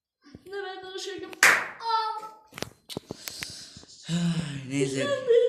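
A few sharp hand claps ring out among a voice and other speech, close and loud, standing out as bright bursts between the talking.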